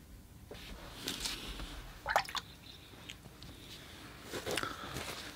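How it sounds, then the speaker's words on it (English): A paintbrush rinsed in a water container during watercolor painting, giving faint small splashes, drips and swishes in a few brief clusters against a quiet room background. "Many times I rinse off my brush in the water pail, water bucket, water container"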